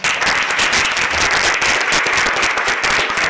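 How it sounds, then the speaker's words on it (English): A crowd at a public health event applauds its panelists, a loud, close, steady wash of many hands clapping that holds evenly from start to finish. "Let's give them a round of applause"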